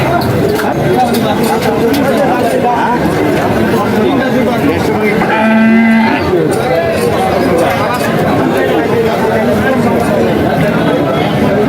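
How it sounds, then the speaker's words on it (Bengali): At the Khochabari cattle haat in Thakurgaon, where bulls are for sale, a single short, low moo rises briefly above loud, constant crowd chatter and bargaining. "দর্শক দেখছেন অনেক সুন্দর একটি গরু"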